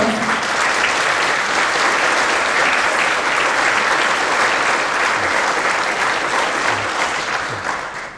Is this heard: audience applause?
yes